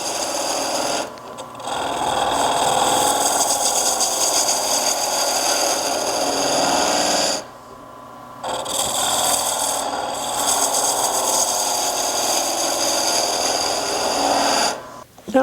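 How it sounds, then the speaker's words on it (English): A skew chisel cuts a hollow form vessel spinning on a wood lathe, giving a steady, close, continuous scraping hiss with a few brief pauses as the tool lifts off the wood. "So I'm now going to take a skew chisel, and from this point down I'm going to further narrow it"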